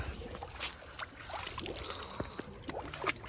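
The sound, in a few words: river water flowing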